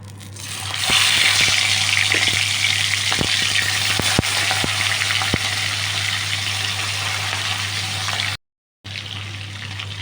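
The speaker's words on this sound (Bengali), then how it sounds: "দেখুন তেলটা গরম হয়ে গেছে, এবার আমি মাছগুলো ভেজে নিই।" Giant freshwater prawns frying in hot oil for a spicy prawn curry give a steady, loud broadband sizzle with scattered crackles and pops, briefly cutting out near the end, with no talking.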